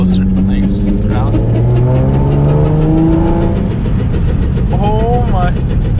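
A steady, rapid knocking tick of loose wheel weights on both sides repeats under the hum of a car engine as it drives, with tire and road noise throughout.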